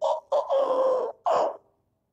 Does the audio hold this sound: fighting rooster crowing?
yes